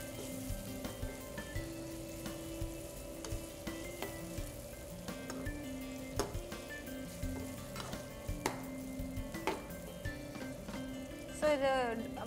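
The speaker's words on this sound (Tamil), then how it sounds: "இந்த ஆயிலில் நல்லா ஃப்ரை ஆகி குக் ஆகணும் சிக்கன்." Chicken pieces frying in plenty of oil for milagu chicken varuval, a steady close sizzle and crackle with occasional stirring clinks throughout.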